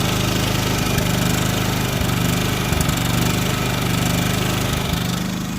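An etrailer 3200 portable generator runs steadily with the mic right beside its exhaust, a loud, close, buzzing engine drone with a regular low pulse and no talk.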